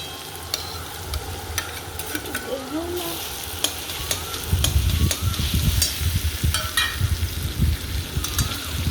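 Chickpeas (chhola) for ghugni are stirred in an open pot with steady scraping and a soft sizzle, and the strokes grow louder and more vigorous partway through.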